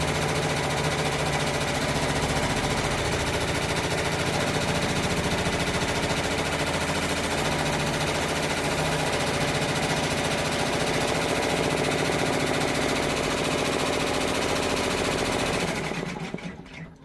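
Multi-needle embroidery machine running a placement stitch, a loud, fast, continuous mechanical rattle that holds steady before stopping abruptly at the end.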